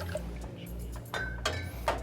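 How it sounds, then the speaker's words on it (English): Spirits for a dry martini are poured into an empty mixing glass without ice, giving a quiet liquid trickle with soft splashes and a few faint clinks over a low background hum. "first we pour the liquids into the mixing glass without having ice in"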